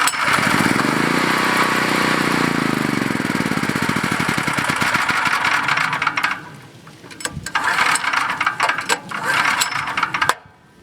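A portable generator's small engine being choked and pull-started, giving a loud continuous mechanical rattle and sputtering run for about six seconds, then a few short fading bursts before it cuts out.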